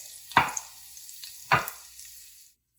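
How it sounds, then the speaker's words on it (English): Onion, carrots and cauliflower sautéing in a pot over medium-high heat: two sharp scraping stirs over a soft sizzle, close by, then the sound stops. "I'm going to put the rest of my vegetables in, and we're going to cook them for about 5 minutes on medium-high heat."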